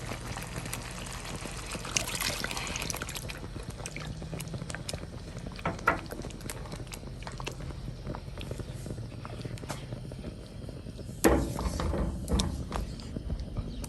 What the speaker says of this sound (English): I'm also going to thin this out with about 1 cup of water.